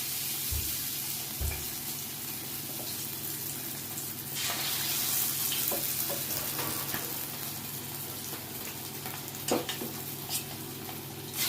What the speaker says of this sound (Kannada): ಈಗ ನಾವು ಪೀಸ್ನ ಫ್ರೈ ಮಾಡೋಕ್ಕಾಗ್ತಾ ಇದ್ದೀವಿ